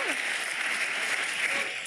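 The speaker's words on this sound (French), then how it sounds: "Mais que nous vaut un tel applaudissement?" Sustained applause from a crowd at an International Women's Day event, a dense steady patter of many hands clapping without pause, fairly loud and even throughout.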